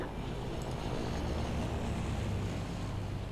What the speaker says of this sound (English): there was an aeroplane sound